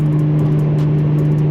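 A Nissan GT-R fitted with a titanium exhaust and stock downpipe drones loudly and steadily at idle, its tone restricted and high pitched, with no talk over it.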